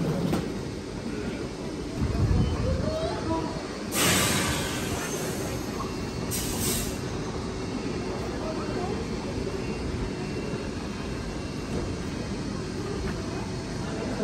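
Rumbling train noise fills a busy station in Germany, with a high-pitched squeal and hiss of brakes, while people talk nearby.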